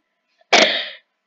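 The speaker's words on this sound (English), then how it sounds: "Sorry, that's my dog. He's sneezing all over the place." A single dog sneeze, sharp and close, one loud burst trailing off quickly, alone in an otherwise quiet room.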